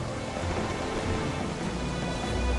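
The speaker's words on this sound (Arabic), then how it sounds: "هطلت أمطار غزيرة واشتدت الرياح" Heavy rain and strong wind pour down in a storm over the sea near Basra, a dense, unbroken roar filling the whole stretch with deep rumbling surges and no voices.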